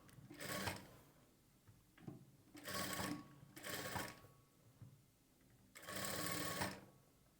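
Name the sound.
sewing machine stitching blouse sleeve to shoulder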